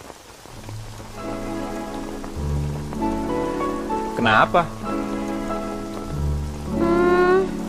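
Steady rain falls throughout as a soft wash, with music playing underneath and people talking over it.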